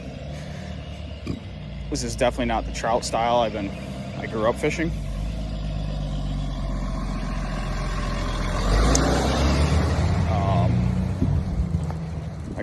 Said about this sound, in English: I gotta move over so I don't get hit by a FedEx truck.